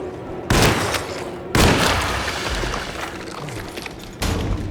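Three heavy gunshot blasts in the video game Alone in the Dark, each a sudden loud burst with a long reverberant decay, spaced unevenly across a few seconds.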